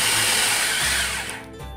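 A food processor whirs steadily as it blends biscuit crumbs with margarine for a lemon tart base, a loud, close motor drone that drops slightly in pitch near the end.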